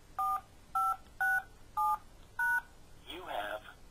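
Five short, clear telephone keypad beeps entering a PIN for magicJack voicemail, evenly spaced and close, followed by a brief burst of a recorded voice prompt.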